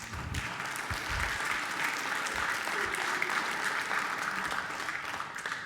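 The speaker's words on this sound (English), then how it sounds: "That round of applause was for the kids" Loud, dense applause from an audience at a high school spring percussion concert, sustained evenly throughout with a few low thumps beneath it.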